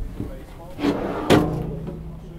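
Big, deep clothes drawers in a BRS Offroad Pursuit camper trailer slide and knock shut, giving two short, close thuds less than a second apart while voices carry on underneath.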